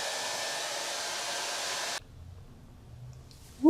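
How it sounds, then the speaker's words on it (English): A hair dryer blows steadily on the top layers of hair for about two seconds, a loud airy whoosh that cuts off suddenly, leaving faint room noise and a brief rustle. "Now I'm gonna give it a little blow dry on the top layers"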